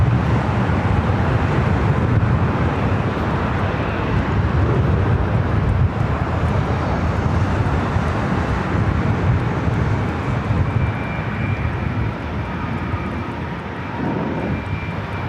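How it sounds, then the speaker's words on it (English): A Southwest Airlines Boeing 737-700 powers up for takeoff on runway 24 right at LAX, its jet engines a loud, steady, broadband roar that holds throughout and eases slightly toward the end. "Southwest Airlines Flight 4485 heading to Sacramento, 737-700 heading over here for a north side takeoff on 24 right."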